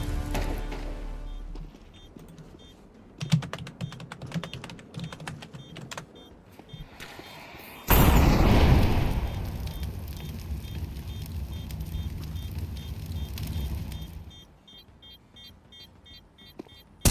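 A grenade explodes in a Counter-Strike-style video game with a sudden loud, rumbling burst that slowly fades, after stretches of clicky keyboard tapping.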